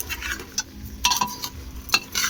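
A spoon scrapes and knocks against a pot while rice is stirred together with vegetables for veg pulao, a few quick clattering strokes over a faint background hum, nobody speaking.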